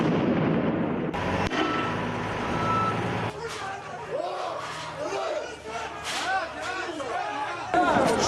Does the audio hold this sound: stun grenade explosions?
yes